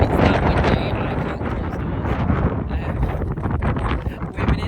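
Strong wind buffets the microphone at a farm, a loud, continuous roaring rush with gusty swells and no pauses throughout.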